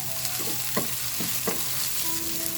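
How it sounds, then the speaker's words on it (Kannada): Cumin and garlic fry in a pan over a medium flame with a constant close sizzle, marked by a few soft scraping and tapping strokes of a spoon. "ಹಾಗೆಯೇ ಬೆಳ್ಳುಳ್ಳಿ ನೋಡಿ, ಇಷ್ಟನ್ನು ಹಾಕಿ ಮೀಡಿಯಮ್ ಫ್ಲೇಮಲ್ಲಿ ಇಟ್ಟು ಫ್ರೈ ಮಾಡ್ಕೊಳ್ಳೋಣ"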